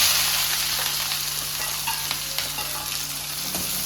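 Onions fry in a hot oil tempering for vagharelo rotlo, giving a steady, close sizzle with soft crackles and a faint hum underneath; nobody speaks.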